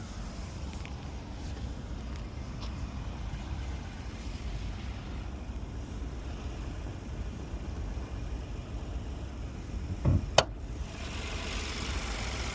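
A 1.0-litre 116-horsepower Audi A1 S Line engine idles with a steady low rumble, heard from the open engine bay, with a brief clunk near the end.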